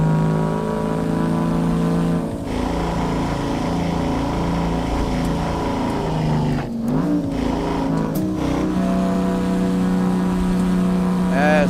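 A six-valve Detroit two-stroke diesel truck engine in American Truck Simulator, a loud steady harmonic drone that shifts pitch with brief dips and revs, running close and continuous throughout.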